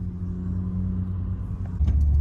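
A car driving on the road after being repaired from smash damage, with a steady low engine and road rumble throughout, swelling louder near the end, with no talking.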